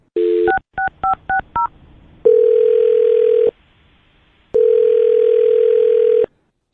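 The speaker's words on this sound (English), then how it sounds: "I'm going to dial her phone number right now" Telephone dialing: a short burst of dial tone, then a quick run of six touch-tone beeps, followed by two long, loud ringback tones separated by silence, with no talk.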